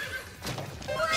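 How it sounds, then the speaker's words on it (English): A horse neighs in Fate/Grand Order Arcade, a near, loud whinny rising in pitch over about a second, with hoof-like clatter mixed in. "Horses?"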